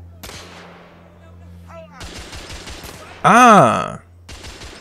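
Pistol shots in The Order 1886 video game: a few sharp isolated bangs spaced across several seconds, mixed with game sound effects, a short exclamation, and a bright swooping tone in the middle.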